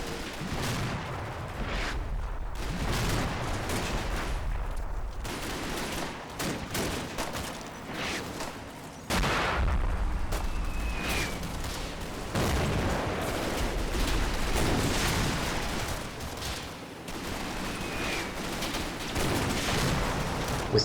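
Wargame battle in Combat Mission, Normandy's Odon bridges, with sustained small-arms and machine-gun fire crackling in dense irregular bursts, punctuated by heavier booms, steady at moderate distance for the whole stretch without speech.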